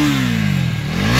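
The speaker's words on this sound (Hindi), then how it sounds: "रेव करना भैया थोड़ा सा इसका एग्जॉस्ट नोट सुनना" A new third-generation KTM Duke 250 motorcycle engine revving, a loud close exhaust note whose pitch drops as the revs fall and then starts rising again in a brief single-cylinder burst.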